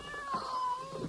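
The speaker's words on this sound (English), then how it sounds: "Stop meowing, for heaven's sake." A cat in a radio play gives a drawn-out, wavering meow, close and fairly quiet, heard alone.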